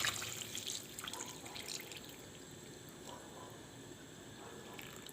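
Hot water is poured into a cooking pot over stuffed zucchini with meat, making a faint, continuous trickling and splashing sound with occasional small drips and clinks.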